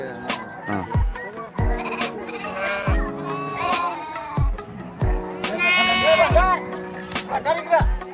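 Sheep from someone's flock bleat repeatedly while being given medicine, the cries rising over a steady bed of people talking nearby, with bursts of bleating spread throughout.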